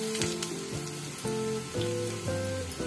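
Garlic fries in oil in a pan with a steady, dense sizzle and crackle that continues without a break, with faint clinks now and then and no talking.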